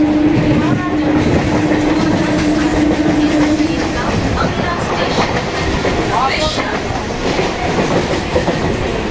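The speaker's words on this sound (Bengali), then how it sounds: "এই যে আমরা ট্রেনে উঠে পড়েছি বন্ধুরা।" Moving train carriage from inside, with continuous loud rumble and rhythmic wheel clatter, a tonal hum early on and faint voices in the background.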